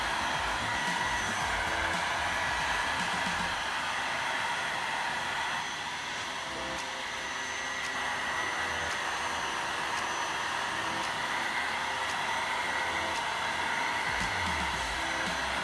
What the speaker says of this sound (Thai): เดี๋ยวเราโชว์ในการเป่าก่อนนะครับ ว่า ในการยืดหยุ่นนะครับต้องใช้ในการเป่าก่อนนะครับ